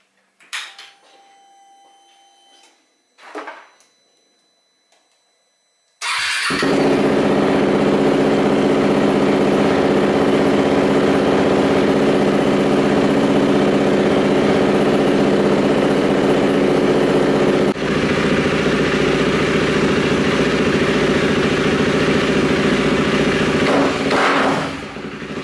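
A KTM RC390 motorcycle, run up to operating temperature while its cooling system is checked for a suspected blown head gasket, idles loudly and steadily after a few faint knocks and beeps, then cuts off near the end.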